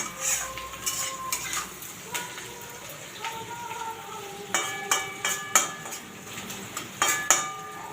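Onions frying in butter in a pan for a Bengali chicken stew, heard as sharp metal clinks and scrapes of a utensil against the pan in irregular bursts over a faint background hiss, close by and without speech.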